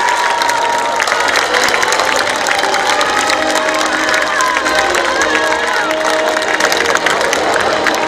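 A packed crowd at the opening ceremony of the Icheon Ceramics Festival claps and cheers loudly and steadily, a dense wash of applause with shouts mixed in, close and continuous throughout.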